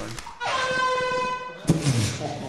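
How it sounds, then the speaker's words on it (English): An air horn blares in the video game Lethal Company, one sustained, bright honk lasting about a second, followed by a short thump and faint background noise. "Air horn."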